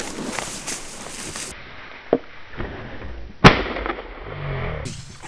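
Two sharp shotgun blasts ring out during an early-season goose hunt in Minnesota, one moderate and one louder, with quieter rustling and footstep-like thumps between them.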